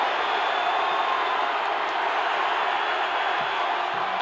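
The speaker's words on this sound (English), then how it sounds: "Listen to this crowd." Roaring stadium crowd at a 1991 Alabama at LSU college football game, a loud, continuous broadband wall of cheering with no breaks throughout.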